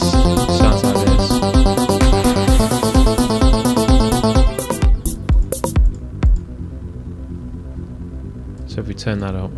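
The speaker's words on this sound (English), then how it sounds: "The bass sounds like this." A bass synth patch built in Thor inside Reason plays a loud, steady, repeating pattern of notes for about five seconds. It then breaks into a few scattered, punchy hits with gaps between them.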